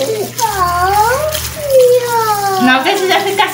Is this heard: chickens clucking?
no